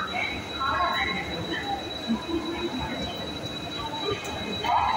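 A train pulls into the New Complex platforms at Howrah Junction station, where an EMD diesel locomotive is mentioned. A steady rolling rumble carries faint wheel squeal, with crowd chatter and platform noise running under it throughout.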